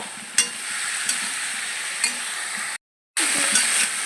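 Chicken and breadfruit sautéing in a pan, giving a continuous even sizzle broken by a few light clinks of a stirring utensil and one brief drop to silence.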